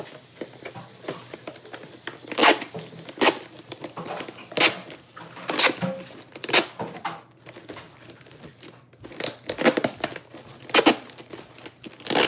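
Packing tape is pulled and torn during winter sowing work: a series of sharp, crackling rips and crinkles in irregular bursts, close and fairly loud, with brief quieter handling sounds between them and no talking.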